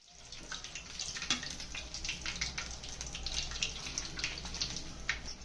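Egg bajji deep fry in hot oil, a faint, steady crackling sizzle with scattered pops throughout, heard alone and fairly quiet.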